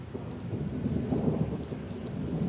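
A steady thunderstorm downpour of heavy rain pattering on surfaces with low rumbling throughout, fairly loud and continuous with no voices.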